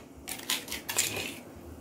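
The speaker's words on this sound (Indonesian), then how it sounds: "kita masukkan bumbu-bumbunya, bumbu-bumbu yang udah digiling tadi" Ground spice paste for sayur asem tipped into a pot with half-cooked melinjo, giving a short burst of wet scraping and clinking against the pot that lasts about a second before settling back to quiet.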